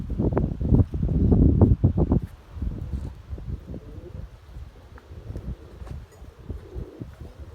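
Storm-force gusty wind buffets the microphone outdoors in loud low rumbling bursts, easing into a steadier rustling roar with scattered thumps.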